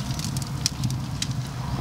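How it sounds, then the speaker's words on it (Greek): Light rain falls outdoors beside a smoker grilling spatchcock chicken, a faint, steady patter with scattered small crackles and no voices. "Αυτό που ακούτε είναι η βροχή."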